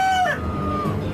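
A rooster crows once up close, a loud strained call with a rising break in the middle that trails off into a softer drawn-out tail.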